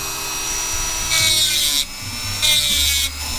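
A point is ground on a softer sharpening stone during repairs to a 1961 VW Beetle, giving two loud, harsh grinding passes against a steady hum, with no talk.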